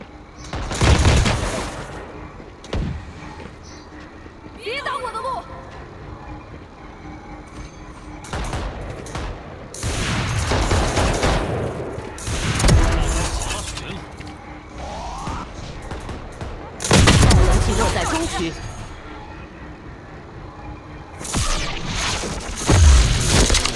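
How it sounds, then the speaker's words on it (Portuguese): Gunfire from the mobile shooter game Valorant Mobile: several loud bursts of shots and booms come in separate clusters, with quieter in-game sounds filling the gaps between them. "Se eu errar o primeiro tiro, eu morro."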